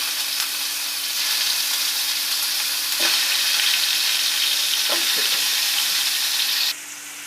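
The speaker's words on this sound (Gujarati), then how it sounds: "હવે પછી આપણે એમાં આપણા લોલીપોપ નાખી દઈશું" Chicken lollipops fry in a little oil in a pan over a fast gas flame, producing a loud, even, close sizzling hiss with a couple of soft knocks, which drops away abruptly near the end, with no speech.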